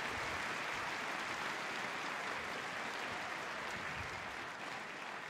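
Spectators at the 2013 German Open badminton men's singles quarterfinal clap loudly and steadily in a dense, even burst of applause that fills the hall and barely fades over several seconds.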